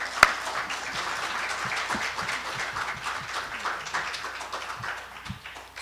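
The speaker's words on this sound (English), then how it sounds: "she deserves some applause just for that." Audience applause at a talk, moderate clapping from a small crowd with distinct individual claps, steady throughout and tapering at the close.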